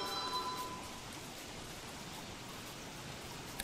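Steady, soft rainfall in the video game Don't Starve hisses continuously, an even wash of droplets with nothing else standing out.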